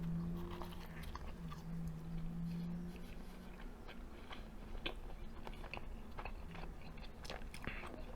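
Chewing a 6-ounce burger patty from Hero Burger up close, with soft wet bites and crunches repeating steadily through a low background hum, no talking.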